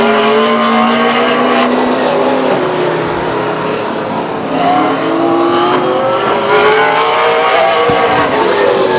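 A late model stock car laps Stockton 99 Speedway, its engine roaring loud and close, revving and rising in pitch as it passes, with a steady drone throughout.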